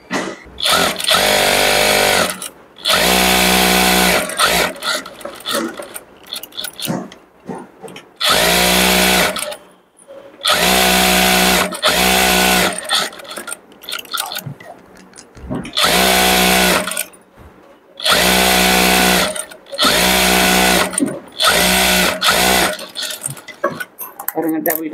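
A sewing machine stitches a double seam on a pillow cover in loud rattling bursts of a few seconds each, with short pauses between runs, and a person talks during the gaps.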